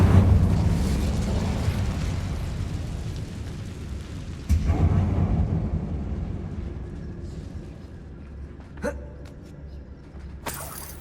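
Confringo and Incendio fire spells in Hogwarts Legacy erupt as a heavy, booming explosion that rumbles and decays, then a second sudden blast cracks out midway, followed by fainter sparkling pops and a sharp burst near the end.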